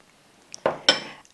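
Tomatoes, purple onions and black olives drop into a salad bowl: a faint light tap, then two sharp clattering hits with short ringing tails, close by with no talk.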